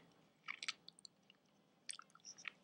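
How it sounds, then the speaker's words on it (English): Someone chewing candy close up, with soft crunching and squishy bites in two short clusters over quiet background. "I'm chewing some candy."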